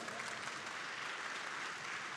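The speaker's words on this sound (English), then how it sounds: "Let's appreciate Andreas with applause." Applause from a conference audience at WaysConf 2024 after a web development talk, a steady wash of many hands clapping at once, even and continuous, heard somewhat distant with no voices over it.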